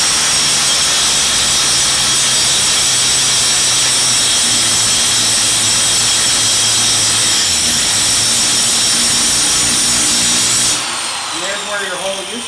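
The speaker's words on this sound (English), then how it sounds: "So what we're going to do is we're going to grind the surface." An angle grinder runs loud and continuous against brazed heavy aluminum, a steady high whine and roar that cuts off near the end, leaving quieter handling noises.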